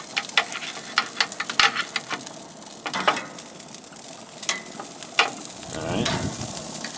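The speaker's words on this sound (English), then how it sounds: "You can hear it sizzling." Polenta slices crackle and sizzle on a hot grill, a steady bed of frying hiss broken by sharp pops and spits, heard close and clear with no talking.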